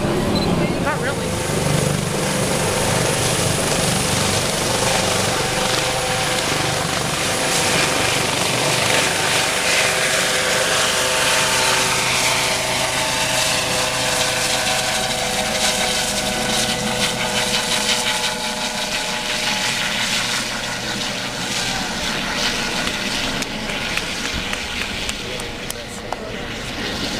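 A helicopter hovering over the cruise ship Mariner of the Seas during a medical evacuation, its rotor roar loud and continuous, slowly shifting in pitch as it moves, with people talking nearby.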